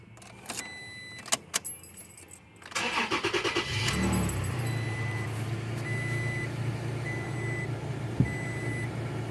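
A 2017 Toyota Tacoma V6 being started after a transmission fluid change: a few sharp clicks and key jangles, then the starter cranks in quick pulses and the engine catches into a steady, close idle with an intermittent chime.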